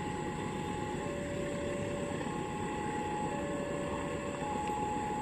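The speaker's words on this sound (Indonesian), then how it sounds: "itu tadi kereta api Argo Wilis" Argo Wilis passenger train on an Indonesian railway line, a steady loud rumble with a sustained tonal whine, continuous and close throughout with no talk.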